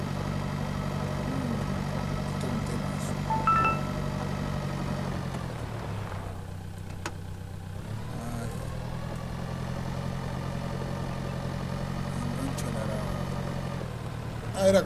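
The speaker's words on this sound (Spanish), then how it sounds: "Era con el tractor nomás, mira." Tractor engine idling and running in the farming video game Pure Farming 2018, a steady low mechanical drone that briefly dips midway before resuming, with someone talking over it.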